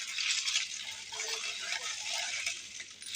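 Crushed ice and Rooh Afza syrup stirred in a glass of water, giving a steady close rattle and clink of ice against the glass throughout, fairly soft and with no talk.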